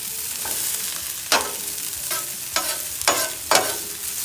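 Catfish and crawfish seasoned with Cajun spice sizzle steadily on a 22-inch Blackstone griddle, with four or five sharp scraping clatters as they are tossed about with a spatula over the constant frying hiss.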